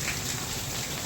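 Steady summer rain falls outdoors, a dense, even hiss of drops on surfaces with no break or voices.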